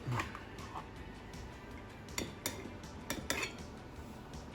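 Cutlery clinks and scrapes against dishes in scattered bursts while plating stuffed peppers, a few sharper knocks standing out, close and moderately quiet with no talking.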